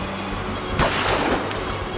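A firework bursts in the adventure game Lost Horizon, one sharp loud explosion with a short crackling tail over a low steady background.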